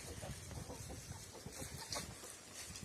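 Chickens cluck in a farmyard in southern Ukraine, several birds making soft, scattered calls over a steady outdoor background throughout.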